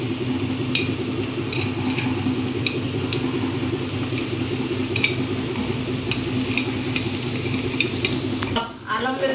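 Ginger garlic paste fries in a pan for chicken curry, giving a steady close sizzle with light stirring clicks throughout and a brief louder clatter near the end, with no voices.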